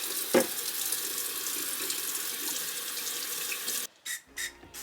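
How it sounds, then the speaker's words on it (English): A faucet runs steadily into a spa room sink as a container is emptied and washed, then shuts off, followed by a few brief splashes and drips. "I'm just gonna dump it out and clean it with soap and water."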